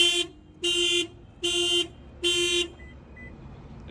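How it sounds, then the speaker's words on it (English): Factory car alarm on a 2024 Toyota Corolla, set off by banging on the tires, sounds in four loud, evenly spaced electronic chirping bursts, each about half a second long, close by with no voices. "I'm going to go ahead and bang on the tires, and the alarm is going to trigger"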